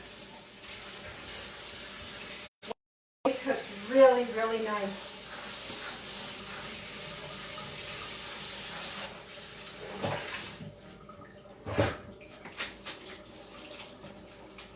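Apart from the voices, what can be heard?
tap water running, rinsing cooked potatoes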